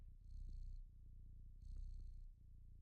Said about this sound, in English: At least he's purring.